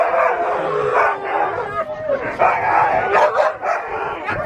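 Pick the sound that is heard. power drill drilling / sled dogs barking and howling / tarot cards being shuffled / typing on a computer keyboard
sled dogs barking and howling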